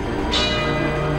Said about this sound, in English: There's the bell ending round one.